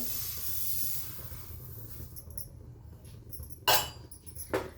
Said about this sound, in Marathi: आता आपण तीळ भाजून घेणार आहे